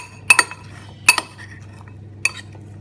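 Utensil scrapes and clinks against a pot while beef jerk and rice are stirred and mixed: three separate metallic taps spaced unevenly, close up, in a quiet kitchen.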